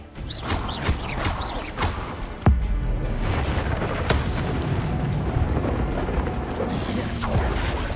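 Spell effects from the Hogwarts Legacy game burst out in quick succession: several heavy blasts and booms over a dense, rumbling wash of magical noise, loud and continuous, with a voice calling out in between.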